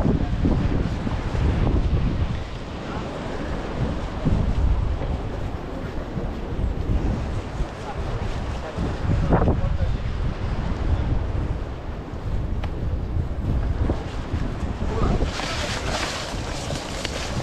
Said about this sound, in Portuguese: Essa praia abençoada.